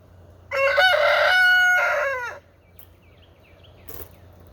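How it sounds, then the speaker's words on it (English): A rooster crows once, loud and close, a long drawn-out call followed by quiet outdoor background. "Cock-a-doodle-doo."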